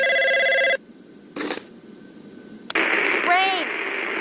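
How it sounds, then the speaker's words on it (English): A telephone rings in a short electronic burst, followed by quieter clicks and a noisy, radio-like passage with a warbling tone toward the end. "He's gonna pick up the phone."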